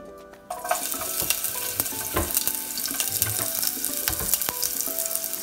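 Chopped onion frying in a tablespoon of hot oil, a dense, continuous close sizzle with crackles and occasional stirring, rising sharply at the start and holding steady with no voices.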